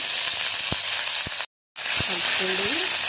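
Curry leaves are dropped into a hot oil tempering of mustard, cumin, chillies and garlic, setting off a loud, close, dense hissing sizzle with a few sharp clicks, broken by a brief silent gap before the sizzle resumes.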